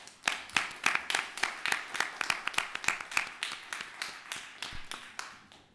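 Audience at a Birmingham City Council meeting applauding, a steady run of sharp, fairly close claps filling the whole stretch, with no talking over it.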